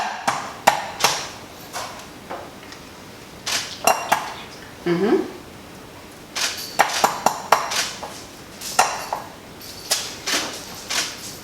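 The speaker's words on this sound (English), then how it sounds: "we always crack the eggs into a bowl" Eggs are cracked against a bowl for vanilla cupcake batter, giving sharp taps and clinks spread irregularly over several seconds, with soft voices of an adult and children in a kitchen.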